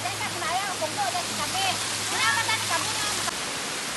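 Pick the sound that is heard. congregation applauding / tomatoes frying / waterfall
waterfall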